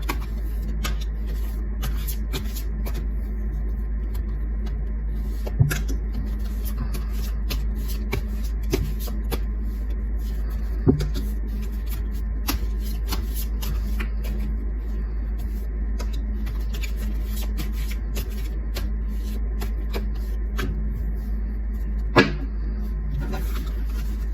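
Tarot cards are shuffled softly and at length, with faint scattered card flicks and taps over a steady low background hum and no talking.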